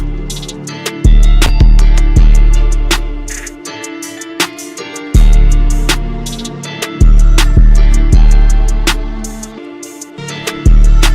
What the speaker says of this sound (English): It's like a bell-like xylophone almost kind of sound.